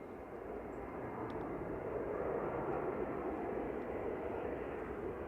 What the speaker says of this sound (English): Vueling flight 8748 coming in from, like I say, from Barcelona. It's an A320 Classic